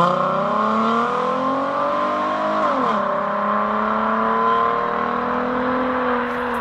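A tuned Ford Mustang engine roars loudly and close, its deep, sustained note climbing as it revs before dipping and settling into a steady drone, with no talking.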